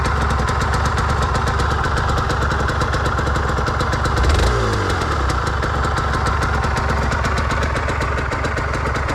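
A 2010 Aprilia RS 125 motorcycle engine idles steadily up close with a rapid, throbbing putter, swelling briefly in a short rev midway before settling back.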